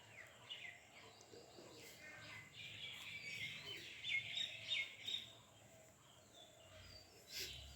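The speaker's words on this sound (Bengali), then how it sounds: "দোয়েল পাখি এসছে, এবার স্নান করবে" An oriental magpie-robin sings in a short run of faint, high chirping notes, mixed with soft insect buzz and outdoor ambience.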